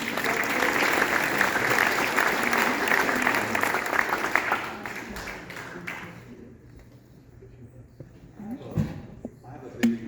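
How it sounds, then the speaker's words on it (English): An evening audience gathered outdoors bursts into loud applause that fades out over several seconds, leaving scattered claps and quiet background sounds. "So give yourselves a round of applause, please."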